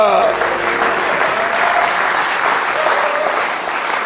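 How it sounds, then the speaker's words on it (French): A crowd applauds steadily in a thick wash of clapping, with a voice briefly heard at the start and faint calls mixed in. "Ah, les gens applaudissaient toujours,"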